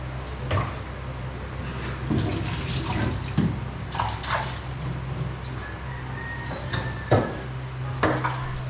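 An octopus is rinsed under a running tap in a sink before being cooked into adobo sa gata, with a steady gush of water broken by splashes, knocks and handling noises.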